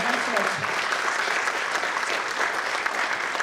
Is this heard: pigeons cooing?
no